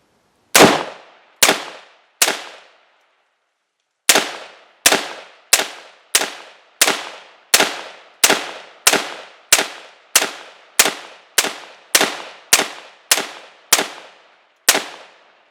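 An AR-15 rifle fires ten rounds from a standard AR magazine at a shooting range. There are three sharp, loud reports, a short pause, then a steady run of evenly spaced shots, each ending in a brief echoing tail.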